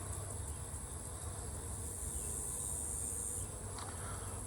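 Bees robbing a failing hive in a green-painted apiary, a steady low insect drone hanging close and unbroken throughout.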